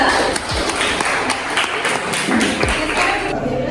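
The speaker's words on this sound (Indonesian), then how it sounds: "Beri aplaus untuk kelompok 2." Applause from a classroom group for a team of economics students after their presentation, a steady dense patter of clapping running the whole time at moderate level.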